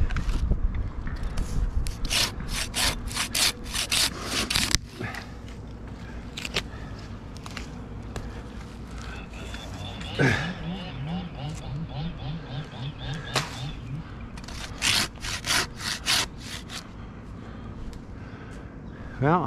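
A handsaw cuts through a white pine tree in rapid, raspy strokes, with bursts of sawing starting and stopping, while people talk nearby.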